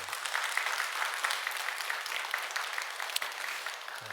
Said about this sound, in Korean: 여러분 다시 한번 박수 한번 해주셔요